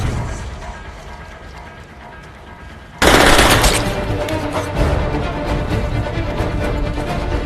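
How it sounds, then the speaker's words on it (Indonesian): Gunfire from a shootout between FBI agents and triad fighters in the 2007 action film War, a loud burst of rapid automatic fire erupting partway through over a rumbling background, continuing as dense shots and crashes. "Film diawali dengan baku tembak dua orang anggota FBI yang bernama John dan Tom yang tengah melawan pasukan triad dari Tiongkok"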